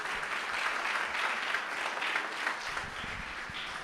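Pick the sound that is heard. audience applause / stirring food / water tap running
audience applause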